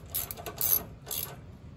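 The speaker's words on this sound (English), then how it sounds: "what I need to do is I need to tighten up the adjuster nut" A wrench turns the brake adjuster nut on a John Deere LT150 lawn tractor, close metallic ratcheting clicks in two short bursts, with no voices.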